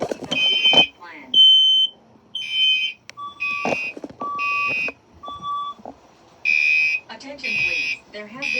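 A building fire alarm test: loud electronic beeps and chirps repeat in uneven bursts, with pauses between them and a recorded voice announcement mixed in.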